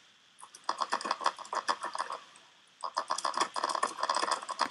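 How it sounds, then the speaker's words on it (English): Rapid clattering keystrokes on a computer keyboard, dense bursts of fast typing that pause briefly midway before resuming, close and clear with no talk. "You are typing something really fastly."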